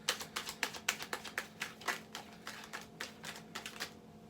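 Tarot cards being shuffled in quick, crisp bursts of riffling taps, fairly close and moderately quiet, with no talking.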